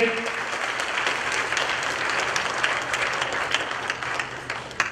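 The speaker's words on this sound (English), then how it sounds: "Let me hear a big applause for all of you for coming here." Applause from a banquet audience at a temple appreciation dinner, a steady, dense patter of many hands clapping throughout at moderate volume.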